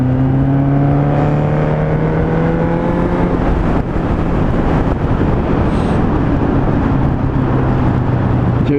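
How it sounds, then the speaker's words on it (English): A Suzuki GSX 750 motorbike engine revs on a wet road near a bridge, a loud, steady roar whose pitch climbs in the first few seconds and then holds as a dense, continuous drone with wind rush over the microphone. "Shall we give you a little rev onto the bridge again? Rev, brum brum."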